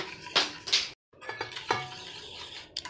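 A spoon or whisk stirs kulfi faluda cake batter in a bowl with soft scraping swishes and a few light clinks. The sound breaks off in a brief silence, then the quiet stirring resumes, with no talking.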